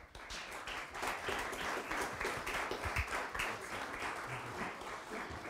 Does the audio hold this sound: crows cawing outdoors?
no